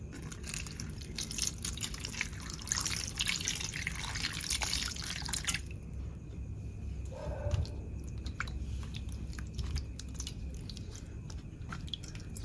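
Himsagar mangoes are rinsed in water on a plate, with dense splashing and dripping for the first half before it settles into quieter trickles and faint handling.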